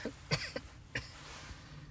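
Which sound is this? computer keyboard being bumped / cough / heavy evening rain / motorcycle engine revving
cough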